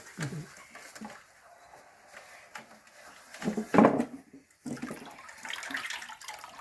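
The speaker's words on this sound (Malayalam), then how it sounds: "ഇതൊക്കെ ഇങ്ങനെ പിഴിഞ്ഞ് പിഴിഞ്ഞിട്ട് എടുക്കുകയാണ് അതിലത്തെ ആ വെള്ളം മുഴുവൻ" Water being wrung by hand from grated arrowroot pulp while making arrowroot powder at home, heard as intermittent wet squelches, drips and splashes into a vessel, with a louder squeezing burst midway and quiet background movement.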